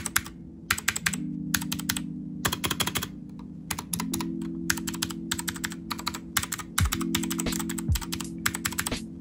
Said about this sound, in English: this is the sound of the keyboard